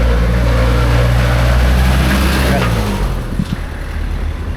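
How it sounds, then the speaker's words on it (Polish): A car passing on a road near a hotel on Madeira, a loud broad rumble of engine and tyres that swells and then fades as it goes by. "Czekajcie, auto jedzie."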